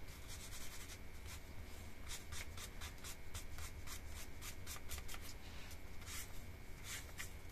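A coloring tool is drawn gently across a ribbon without pressing hard, making quiet, quick, repeated rubbing strokes close up against a faint steady background.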